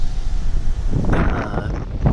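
Strong wind roars and buffets the microphone steadily, with gusty rumbling swells throughout.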